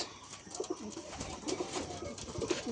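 Kaldoma breed pigeons, a male and female pair, cooing in soft repeated low calls at moderate distance, rising and falling over a faint background with no talk.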